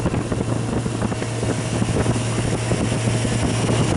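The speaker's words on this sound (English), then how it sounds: "This compressor's got a little vibration to it, more than I would like." A rooftop condenser compressor runs in cold weather with a steady, loud, droning hum and a slight vibration, holding constant throughout with no talking.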